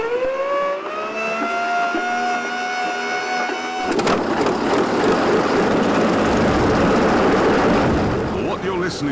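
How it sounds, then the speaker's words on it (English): A 46-litre BMW V12 aero engine, originally built for the Heinkel He 111 bomber, roars loud and close, a droning harmonic whine swelling into a dense, rough full-throttle blast that holds steady to the end. "Listening to here is a 46-litre BMW V12, an engine that was originally used to power the Heinkel HE-111 bomber."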